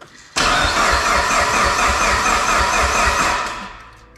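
A fully built Mitsubishi Evo 8 engine cranking over on its first start, a loud, steady starter whir that churns for about three seconds without catching, then fades out.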